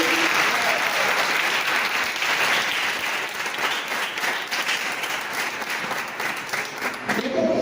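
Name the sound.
congregation applause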